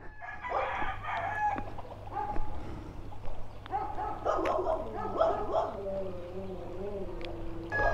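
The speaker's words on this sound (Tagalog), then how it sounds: "Alright, literal na puro manok dito." Chickens and roosters at a farm in Amadeo, Cavite crow and cluck in repeated overlapping calls, near and fairly loud, with a dog barking and people talking among them.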